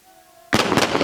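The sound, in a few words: RPG and small arms firing at military training range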